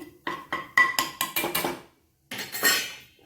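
A spoon clinks and scrapes against a metal pot while Kashmiri chili powder is stirred into garlic green dal, a series of sharp rhythmic taps, a short pause, then more clattering, close and loud.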